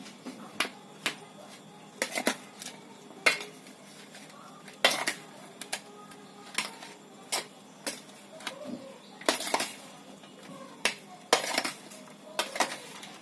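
A spoon clinks and scrapes against a bowl while sandwich stuffing with chilli powder is mixed, giving a steady run of sharp, close metallic taps at an uneven rhythm, with no talk.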